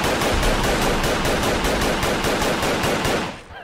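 Rapid automatic gunfire from a weapon in the video game Fallout 4, a dense, loud, evenly spaced burst of shots lasting several seconds before cutting off, no speech over it.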